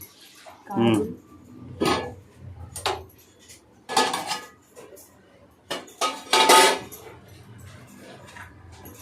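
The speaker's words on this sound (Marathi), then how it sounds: "आता बिर्याणी थोडी वरतून ढवळून घेते" A metal spoon clinks and scrapes against a pot while stirring homemade egg biryani in a home kitchen, giving a few irregular clanks between quieter stretches, with a voice talking nearby.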